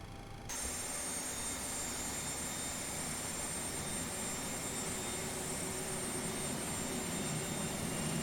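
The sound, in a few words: Boeing 737 right jet engine starting, X-Plane 11 video game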